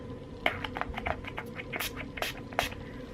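Setting spray misted onto a makeup brush: a few short, close hissing spritzes spread over a couple of seconds against quiet room background.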